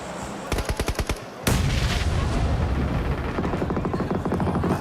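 In PUBG Mobile, a short burst of rapid gunshots gives way to a loud, sudden blast, then a sustained rumbling roar with more crackling shots underneath.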